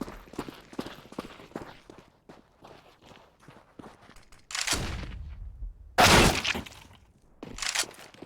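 Gunfire in a Counter-Strike match: a few loud, sharp shots ring out amid rapid in-game footsteps and clatter, one blast standing out as the loudest.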